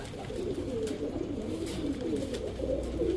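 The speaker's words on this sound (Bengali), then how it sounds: "গ্রিন নেক হাঙ্গেরিয়ান হাই ফ্লেয়ার বুদাপেস্ট একটা মাদি কবুতর" A female green-neck Hungarian Budapest high flyer pigeon coos in a low, continuous rolling murmur, close by over a soft background hum.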